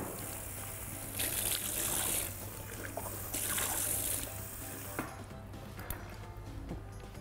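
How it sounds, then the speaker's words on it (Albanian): Lukewarm water trickles gently into flour dough for a leek pie, a soft splashing pour in two short bursts with quiet handling noises in between. "Po, një çik ujë të vakë."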